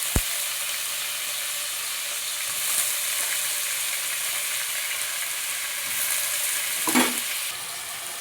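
Tomato and potato pieces fry in a pan, giving a steady broadband sizzle throughout, with a few soft stirring clatters and a brief scrape near the end; no one speaks.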